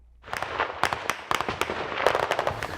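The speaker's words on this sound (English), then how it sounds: "you can hear some of the explosions in the distance and not very far away from us" Rapid bursts of sharp explosion blasts and pops in a trench war, some close and some farther off, cracking irregularly over a continuous rumbling background.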